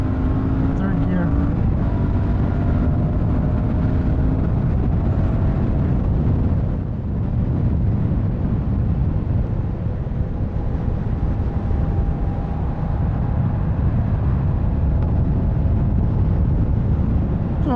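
A Royal Enfield Shotgun 650 motorcycle, a 2024 model, accelerates hard in third gear with a loud, continuous engine drone and wind roar close to the rider, rising in pitch and then settling as the revs climb.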